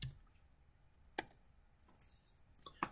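A few sparse, quiet clicks of keys being typed on a computer keyboard, separate taps spread across a few seconds in a quiet room.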